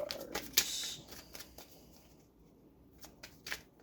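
Tarot cards are shuffled and drawn close by, giving quiet riffling bursts and light, crisp card flicks spaced through otherwise near-silence.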